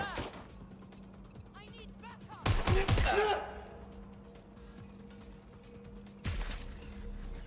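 Gunfire in the video game Watch Dogs: Legion, a short loud burst of rapid shots with a second burst a few seconds later, over quieter game sounds.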